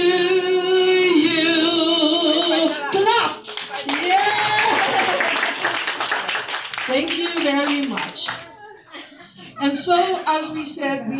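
Singing of Happy Birthday at a book launch gives way to a burst of clapping from a group, mixed with cheers and chatter, continuing loudly for several seconds.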